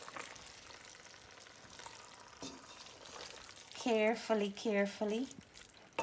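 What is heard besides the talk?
mixing eggs and spices in a pan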